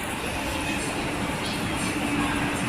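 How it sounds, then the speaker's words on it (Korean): Incheon Line 1 subway train standing at a station platform, a loud steady rumble of the waiting train with constant broadband noise throughout. "마침 열차가 와있네요"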